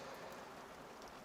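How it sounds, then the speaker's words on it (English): Heavy rain mixed with hail pours down outside in a dense, steady hiss with no pauses, faint and muffled as if heard from indoors. "Excuse the noise, it's absolutely chucking it down. I think it's hailing outside now"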